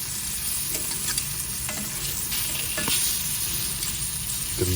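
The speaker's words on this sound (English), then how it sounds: "Just let them sizzle away a little bit just to seal them up" Pieces of food sizzle steadily in a hot frying pan as they are seared for colour before turning, with occasional scraping and stirring clicks over the crackle and no talking.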